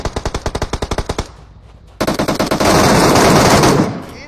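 Loud gunfire in a battle royale match's final-zone fight: a fast burst of about a dozen evenly spaced shots, a short lull, then dense sustained automatic fire that fades out.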